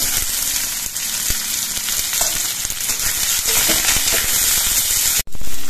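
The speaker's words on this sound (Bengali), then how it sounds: "কালো জিরে আর কাঁচা লঙ্কাটা ভাজা হয়ে যাওয়ার পর এর মধ্যে কোচানো পেঁয়াজগুলো দিচ্ছি।" Chopped onions hit hot oil already crackling with black cumin seeds and slit green chillies, setting off a loud, continuous close sizzle with scattered pops and a brief clatter near the end.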